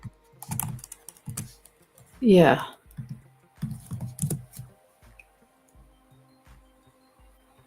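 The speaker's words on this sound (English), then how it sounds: "what the hell were you typing" Fingers tap on a computer keyboard in short bursts of crisp clicks, close to the microphone. A brief spoken word falls between the bursts.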